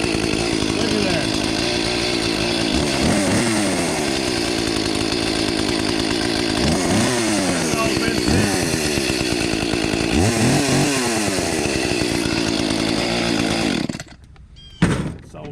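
A neglected Echo chainsaw left sitting outside for a long time runs steadily at close range for about fourteen seconds, revving up and down repeatedly, then cuts out abruptly.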